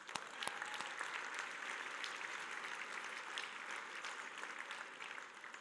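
A roomful of guests at an annual celebration dinner clapping steadily, the dense patter of many hands continuing evenly from start to finish, with a few sharper individual claps near the beginning.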